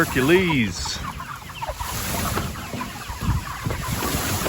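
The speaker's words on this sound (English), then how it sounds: "So here are our broilers." Broiler chickens clucking in a poultry pen, with the calls clearer at the start and then continuing at a low, busy level under steady background noise.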